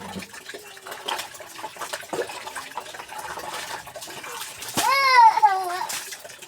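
Bathwater splashes and trickles during a small child's bath, soft and close, with a child's and adults' voices chatting over it and a brief sing-song voice near the end.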